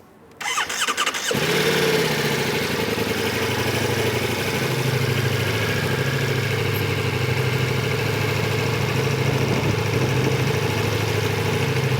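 A motorcycle engine starts after a brief quiet moment, then settles into a steady, loud, close idle that continues without revving.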